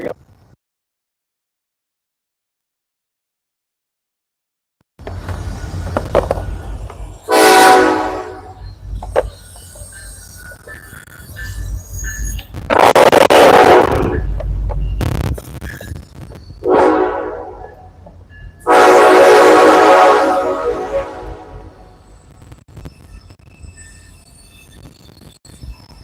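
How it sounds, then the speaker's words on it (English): A train passes by outdoors where skateboarding is going on, its loud horn sounding in long blasts over the rumble of the cars, with bursts of rolling noise in between after a quiet opening. "I'm gonna try to get a clip with the train in the background. Here it comes."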